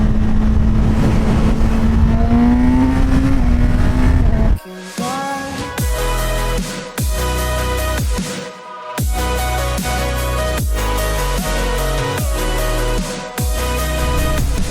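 A Honda CB1000 Hornet inline-four 1000cc naked motorcycle with 150 horsepower roars loudly nearby, holding a steady drone before climbing through a series of sharp up-shifts with brief gaps as it accelerates hard.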